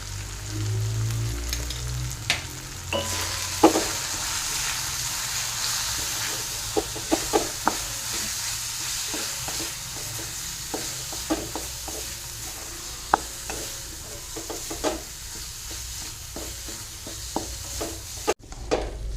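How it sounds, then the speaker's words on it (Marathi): Spiced masala for paneer masala sizzles and fries in a pan, a continuous hiss broken by frequent sharp clicks and scrapes of stirring, close and fairly loud, with no talking. "हे बघा छान असं परतून झालंय आपला हा मसाला"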